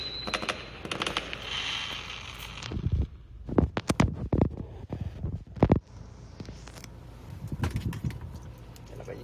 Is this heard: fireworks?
yes